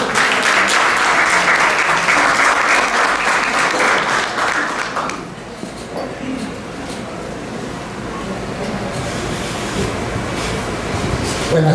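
Strong applause from an audience at a university event greeting the head of a law program, loud for about five seconds then fading into lighter scattered clapping and room noise.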